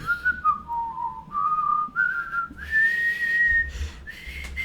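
A melody whistled by a single person, sliding between sustained clear tones with brief pauses, loud and close against faint background noise.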